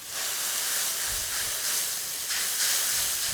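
Sugar syrup with a pinch of salt for sweet and sour sauce simmering in a pan, a loud continuous steamy hiss swelling and easing, close and without talk.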